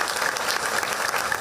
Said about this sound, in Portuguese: O corpo de Wendell Washington foi enterrado hoje à tarde no cemitério de Ricardo de Albuquerque,